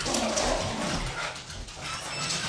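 A small pet dog, let out indoors, gives a couple of short whiny barks or yelps near the start against a steady background hiss, then quieter movement and noise.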